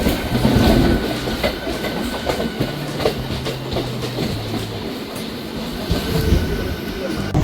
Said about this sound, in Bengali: আমি শ্রীরামপুর থেকে লোকাল ট্রেন ধরে নিয়েছি, বর্ধমান লোকাল করে যাচ্ছি হাওড়া। আর এই মাত্র আমাদের ট্রেন ছেড়ে দিল বেলুড় স্টেশন।